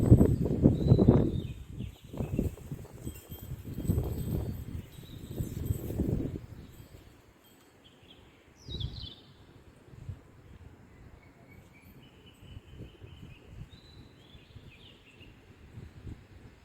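Sparse, faint bird chirps at dawn sound in the distance over a quiet outdoor stillness, after a few low gusts of wind.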